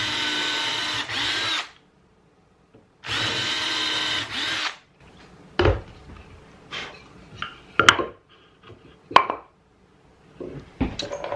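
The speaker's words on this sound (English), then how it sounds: "do a little pre-drill in the end of this guy" A power drill pre-drills into the end of a piece of wood in a workshop, two loud whirring bursts followed by scattered clunks and knocks of handling.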